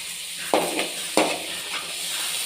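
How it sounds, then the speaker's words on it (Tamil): Four onions sautéing in a pan until golden brown, a constant sizzle under two sharp spoon scrapes and stirs against the pan close by. "இப்போ இந்த 4 ஆனியனையும் நல்லா வந்து கோல்டன் ப்ரௌன் ஆகிற வரைக்கும் நல்லாவே வந்து இந்த மாதிரி வதக்கிக்கலாம்"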